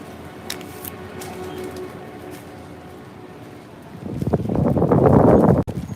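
Wind buffets the microphone on a street in Shirokanedai, Tokyo, a low steady rumble that swells into loud, gusty roaring near the end.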